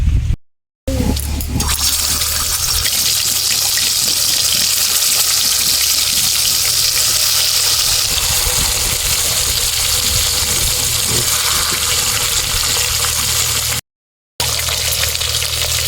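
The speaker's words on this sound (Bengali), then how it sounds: "এবারে আমি মাছ ভেজে নেব।" Shol fish fries in hot oil in a home kitchen, giving a loud, steady, rushing sizzle that fills the whole stretch. It cuts out briefly near the start and again near the end.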